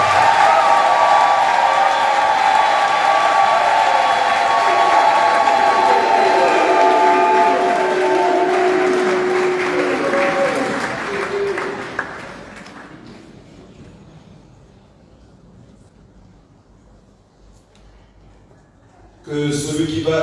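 A church congregation at an ordination mass bursting into loud applause and cheering with ringing whoops, sustained for several seconds before fading away to near quiet.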